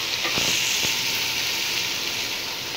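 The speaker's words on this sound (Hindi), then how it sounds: "ये देखिए गाइस, मसाला तकरीबन भुन चुका है और ये स्पाइसेस सारे इसमें शामिल कर देंगे" Onion and spice masala for biryani frying in oil in a Pakistani home kitchen, a steady hissing sizzle with a couple of brief knocks near the start, no voices.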